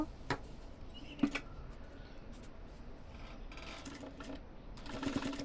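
A sewing machine runs a double line of stitching on a petticoat, quiet intermittent whirring bursts with a few sharp clicks and pauses between runs.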